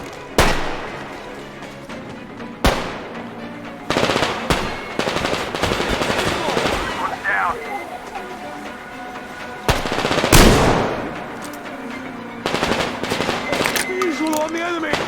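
Automatic gunfire in the video game Metro Exodus, loud bursts at close range repeating over about fifteen seconds, mixed with broader battle noise and shouted commands from voices.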